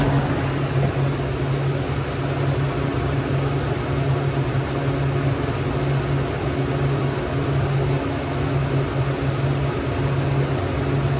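Walk-in cooler refrigeration unit running with a warm-box fault, a steady close hum with a strong low tone and broad mechanical noise throughout, no voices.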